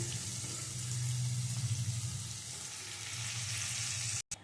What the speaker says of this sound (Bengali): ইলিশগুলো এপিট ওপিট করে হালকা ভেজে নিয়েছি এবারে তুলে নিচ্ছি